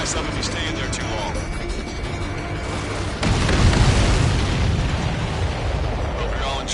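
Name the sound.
explosions in the video game Ace Combat 7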